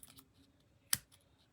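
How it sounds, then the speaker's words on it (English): Scissors make a single sharp snip while trimming the edge of a paper piece for a card, a brief crisp cut against quiet surroundings with faint small rustles before and after. "Gotta cut my little edge."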